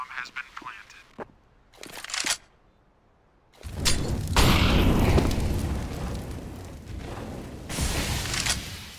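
A planted bomb detonates in a tactical shooter video game, a loud, sustained boom after a few short bursts, rumbling on for several seconds with speech faintly nearby.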